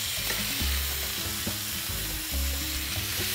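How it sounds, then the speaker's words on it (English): Meat searing in hot oil in a cast iron pan for birria tacos: a loud, continuous sizzle with crackling pops and occasional low bumps from stirring or shifting the meat. "Give that oil a little swirl and then add the meat. And we're going to sear the meat about 2 to 3 minutes per side."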